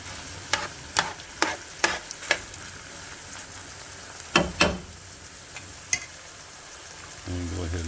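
Spaghetti sauce cooks in a pan with a soft sizzle, broken up by a series of sharp clinks and scrapes from stirring at irregular intervals.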